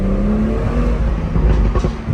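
A BMW M340i engine revs hard with a steady, loud, close-up drone and turbo whir, held throughout with a slight surge near the end.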